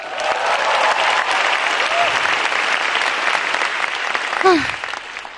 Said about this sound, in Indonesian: Boleh pindah tepuk tangannya yuk.